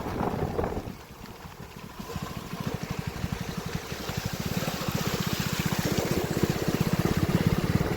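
Rainwater flowing through a village after heavy rain, a continuous close rush and gurgle of running water with a steady, slightly pulsing churn, no talk.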